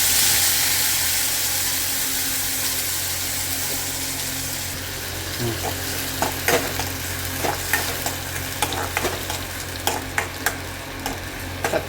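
Tomatoes sauté in a pan for rasam, giving a steady close sizzle that softens midway, then a run of sharp scraping and stirring clicks from a spoon against the pan.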